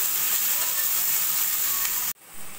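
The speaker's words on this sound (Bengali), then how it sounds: "সবজিগুলো দিয়ে 2-3 মিনিট মতো ভাজা ভাজা করে নিয়েছি" Vegetables for veg hakka noodles fry in hot oil in a wok, a steady close hiss and sizzle with faint stirring that stops abruptly near the end.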